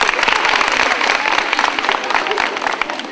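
Audience applause at a Salam Satara quiz event at Kanya College, Satara: dense, sustained clapping from a crowd that stays loud and steady for about three seconds, with no voices standing out above it.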